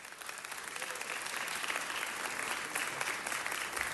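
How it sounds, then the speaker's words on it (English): Applause from the audience at a city council meeting, a steady, even roar of many hands clapping heard from a distance, holding at a constant level across the whole stretch. "Give yourselves another round of applause"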